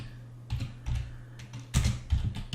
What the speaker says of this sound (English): So if I run that again and type Mary